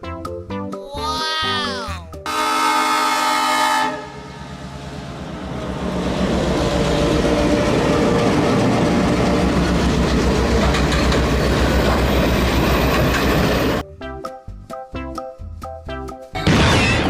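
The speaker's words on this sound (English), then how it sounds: "Diesel train." A toy diesel train passes steadily and loudly, its rattling rolling wheels and clickety-clack dominating for about ten seconds, with brief tonal sounds before it arrives and after it fades.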